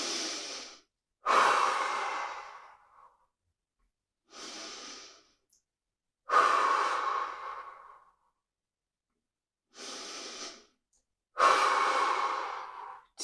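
Slow deep breaths during a home exercise circuit in a crab hold position, each long inhale followed by a fuller, audible exhale, repeated three times with quiet pauses between, close and clear with no talking.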